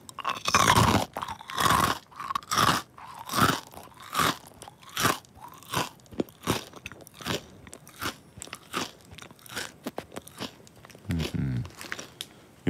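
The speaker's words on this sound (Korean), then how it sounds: "자, 과자 실시간으로 먹습니다." Crunchy Korean snacks are bitten and chewed close to the microphone, giving a steady series of sharp, loud crunches roughly every half second that gradually soften as the pieces break down, with a brief voice near the end.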